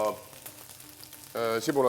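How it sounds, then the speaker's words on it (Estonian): Onion and garlic frying with almond potatoes in a pan give a soft, steady sizzle close by, partly under a person speaking toward the end. "lihtsalt praeme sibula ja"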